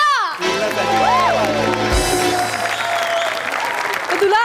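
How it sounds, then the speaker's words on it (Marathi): An audience at a Marathi comedy show breaks into loud applause and cheering, with voices and tonal sounds carrying over the clapping. "जोरदार टाळ्या."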